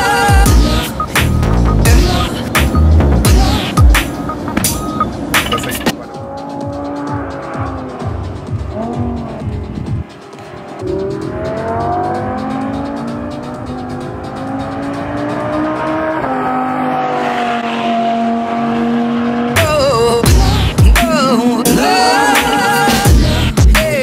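A yellow Lamborghini sports car on the road in Las Vegas, loud engine drone rising and falling with revs and shifting tone, broken by sharp bursts at the start and end, close and strong.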